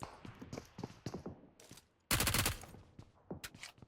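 Gunfire in the mobile battle royale game PUBG Mobile: scattered distant shots and clicks, then one loud close blast partway through, followed by more faint shots.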